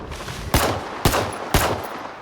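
Three sharp, loud gunshots in the video game S.T.A.L.K.E.R. 2, spaced about half a second apart, each with a brief ringing tail.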